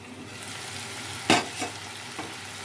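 Vegetable pieces frying in a pan for a mutton-and-potato style curry, a soft steady sizzle with one sharp scrape of a stirring spoon and two fainter ones after it.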